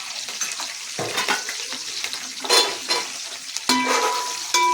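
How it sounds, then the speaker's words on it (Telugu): Garlic and curry leaves frying in a pan for village-style chicken pulao crackle and sizzle up close, with irregular spoon scrapes and louder bursts of spitting oil. "కరివేపాకు కూడా కొంచెం ఫ్రై చేసుకొని ఇందులో వెల్లుల్లిపాయలు వేసుకున్నాం."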